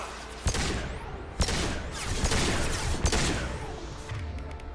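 Pistol shots ring out in the video game Mass Effect 2, amid a firefight in Illium. Four or five sharp, widely spaced reports pop over a continuous rumble of combat noise.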